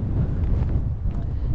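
Strong wind roaring and buffeting a microphone continuously, a dense low rumble with no voices.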